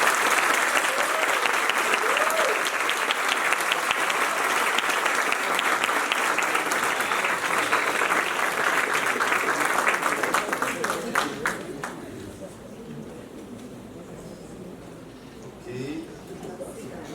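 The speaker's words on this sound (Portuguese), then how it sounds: "Uma salva de palmas." An audience at an awards ceremony gives a round of applause, dense sustained clapping for about twelve seconds that thins out and fades while a voice speaks over the tail.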